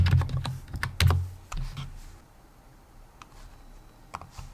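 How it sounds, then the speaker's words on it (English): Quick bursts of keystrokes on a computer keyboard as a password is entered at a login screen, close and clicky at first, then thinning to scattered single taps, with no talking. "I'm just going to put in my password here"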